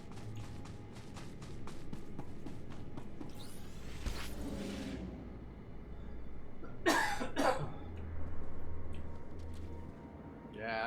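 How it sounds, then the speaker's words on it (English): A man coughs and clears his throat a few times over a low background hum, with brief faint vocal sounds in between. "sorry for coughing by the way."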